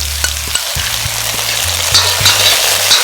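Kung pao sauce hits a hot wok of shrimp, dried chilies, Sichuan peppercorns and scallion pieces, setting off a steady loud sizzle with a few stirring scrapes and clacks, no voices.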